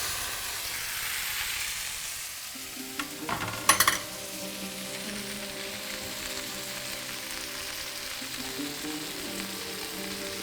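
Steelhead fish with masala frying in a covered pan, a steady soft sizzle running throughout, broken briefly by a few clattering knocks near the middle.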